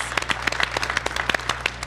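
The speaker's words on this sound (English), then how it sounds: "Let's give Barbara a round of applause." Brief applause at a public board meeting for a retiring board member: a small group clapping in scattered, fairly distinct claps over a steady low hum, moderately loud and lasting under two seconds.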